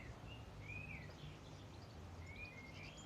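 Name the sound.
birds singing outdoors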